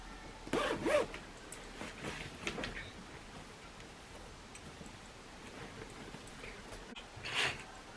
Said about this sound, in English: So make sure all your zips are open.